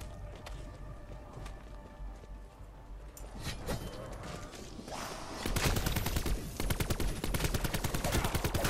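Gunfire from a newly acquired favorite weapon in Black Ops 4 Zombies, on the Blood of the Dead map, starts with scattered distant shots and then becomes loud, rapid automatic fire for the last few seconds, with no talking.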